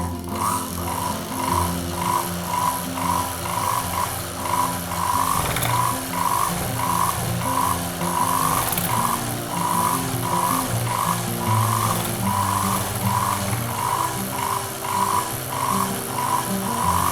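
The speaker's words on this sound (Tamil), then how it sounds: "மேலே ஒரு பிடிமானம் வர்றதுக்காக ஃபுல்லாக ஒரு ஸ்டிச் போட்டு" An all-in-one sewing machine stitches a mat in a quick, regular mechanical clatter, each burst of needle strokes ticking evenly at close range, with brief pauses between runs.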